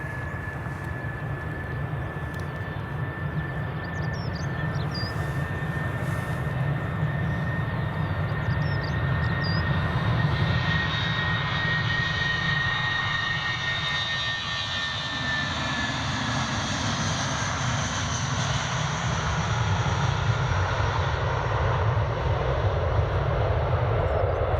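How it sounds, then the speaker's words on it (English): Airbus A319 jet airliner at Edinburgh Airport, a continuous loud engine roar with a steady whine, rumbling evenly throughout as the aircraft taxis or rolls nearby, no speech. "Amori, no, it's an Airbus A319."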